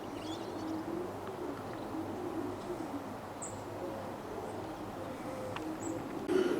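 Racing pigeons in a loft in Ruislip, Middlesex, with faint, soft cooing scattered over a low steady background hum and a few light rustles, no talking.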